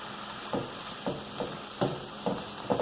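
Steak sizzling in a hot pan for Philly cheese steaks, a steady frying hiss broken by several soft scraping or stirring strokes at irregular intervals, close and without talk.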